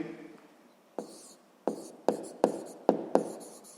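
A pen scratches across paper while solving a sixth-grade math exercise, heard as about six quick, crisp strokes spaced irregularly with quiet pauses between, close and soft.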